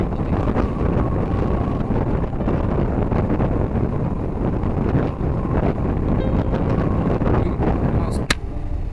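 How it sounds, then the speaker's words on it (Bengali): Steady, loud wind blast roaring over the microphone of a motorbike riding a long nonstop route from Bagda Beach toward Simlipal, a dense broadband rush that barely varies, with a brief sharp click near the end. "উইন্ড ব্লাস্টের সাউন্ডটা অনেকটাই রয়েছে এখানে, সেটা তোমরা বুঝতে পারছো।"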